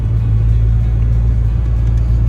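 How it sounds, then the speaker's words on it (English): A 4WD vehicle cruising along a sandy bush track, its engine a steady, loud, low rumble heard from inside the cabin with no talk. "Just cruising along, just sand driving."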